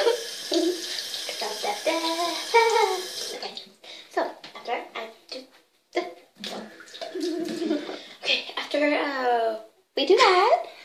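Tap water running into a sink while a pet is washed, a steady wash of water heard under near-constant lively talking.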